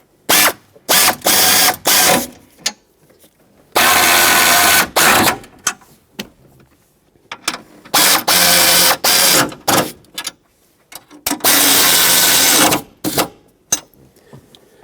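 Seat cushion mounting hardware being tightened on a 2003-2009 Dodge Ram 2500, heard as repeated loud bursts of ratcheting clicks, several short runs and a few longer ones separated by pauses, close and without talk.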